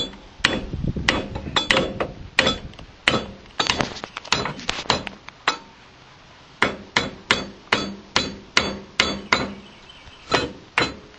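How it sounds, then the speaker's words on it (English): Sharp metallic hammer strikes on a drift, driving a link pin out of a truck stub axle; loud close blows come in irregular bursts, then a steady run of evenly spaced taps, with ringing clinks between. "Now take a drift and tap that bottom link pin out"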